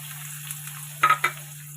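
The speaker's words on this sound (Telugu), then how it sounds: "ఇప్పుడు నూనె అనేది వేడెక్కిపోయింది ఇందులో మనం ఇంతకుముందు కట్ చేసి పెట్టుకున్న ఆనియన్స్ వేసుకోవాలి" Chopped onions hit hot oil for a spinach dish, giving a low, steady sizzle beneath a constant hum, with two quick clattering bursts near the end.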